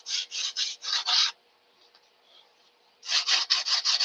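A CNC spindle at about 4,000 RPM drives a 1/8 inch downcut spiral bit through wood, making close, rasping bursts in a quick rhythmic series, a quiet pause of about two seconds, then another run of rapid cutting passes.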